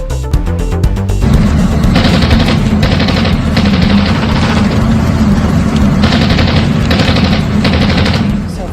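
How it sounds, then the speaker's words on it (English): Loud, rapid bursts of automatic gunfire in a packed nightclub in Turkey, with continuous rattling volleys over a deep rumble, dense and overwhelming throughout. "The chilling gunfire all caught on camera."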